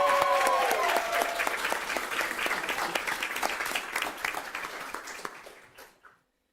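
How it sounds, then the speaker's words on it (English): Sustained audience applause at a school board meeting, dense and loud clapping from a crowd lasting several seconds before fading out to silence. "Let's give her a round of applause."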